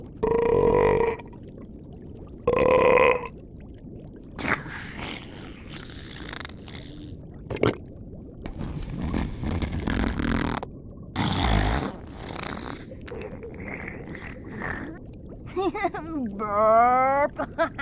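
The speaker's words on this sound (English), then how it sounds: "Burp." A cartoon sea monster lets out a couple of loud, deep voiced burps amid lively animated dialogue and scattered splashy effects, ending with a rising warbling tone.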